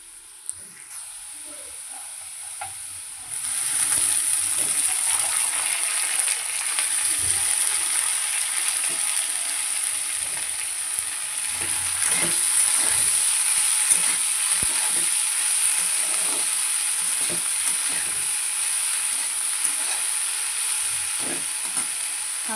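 Leafy greens sizzle and fry in a pan with softened potato, a steady loud hiss that swells after a few seconds and carries on with occasional stirring scrapes, no voices.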